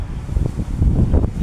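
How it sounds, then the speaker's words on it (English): Strong, cold wind gusts outdoors as a low, buffeting roar that rumbles against the microphone and swells louder toward the end, with no one talking. "The wind is so cold because so windy."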